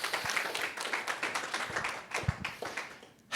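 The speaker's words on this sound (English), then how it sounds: "Give you guys a round of applause." A church congregation claps in a brief, moderate round of applause, uneven hand claps close and distant blending together before fading out near the end.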